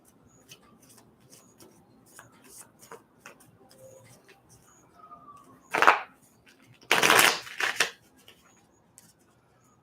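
Tarot cards shuffled by hand in two quick riffling bursts, one short and one longer, between faint taps and light handling noises in a quiet room.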